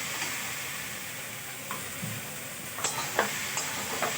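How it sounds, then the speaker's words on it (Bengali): Raw green banana pieces frying in a pan for a home curry, a continuous close sizzle broken by several sharp spatula scrapes and taps, with no voices. "আমি কাঁচকলা বেশি ভাজবো না গো"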